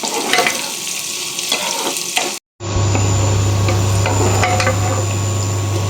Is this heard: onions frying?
yes